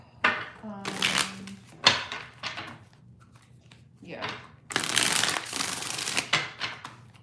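Tarot cards are shuffled by hand in several quick riffling bursts, close and crisp, with a brief spoken word between them.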